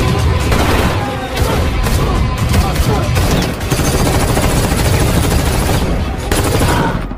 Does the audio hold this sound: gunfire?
yes